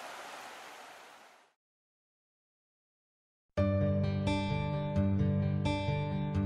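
Rushing water from a class one river in Tasmania makes a loud, steady broadband roar for about a second and a half, then cuts to silence before unrelated music begins.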